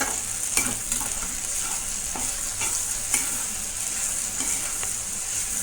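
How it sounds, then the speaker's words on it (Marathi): Okra being stirred in a frying pan, with a steady hissing sizzle of oil and repeated scraping taps from a spoon against the pan, close and continuous. "आता फिरवून घेते."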